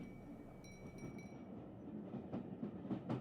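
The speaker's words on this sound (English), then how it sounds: "The rhythmic sound of the train's movement is deeply soothing, a soft swooshing sound" A moving train gives a soft, continuous low rumble with a gentle rhythmic swoosh, while faint high chime-like tones ring briefly near the start.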